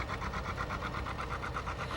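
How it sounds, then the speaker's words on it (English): A 1939 John Deere D tractor with an external flywheel runs steadily in a fall fair parade, giving a fast, even, mechanical pulsing chug at moderate distance with no talk. "This is a John Deere D, a 1939 tractor owned by John Greenway and driven by Ray Van"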